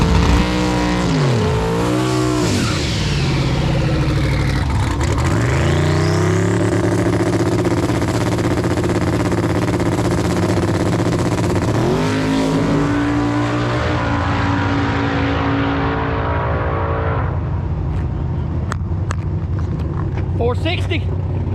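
A Gen V LT-powered Nova drag car makes a full pass at a street-car drag meet. The engine climbs loud and close through repeated rising sweeps at each gear change, then fades away as the run ends.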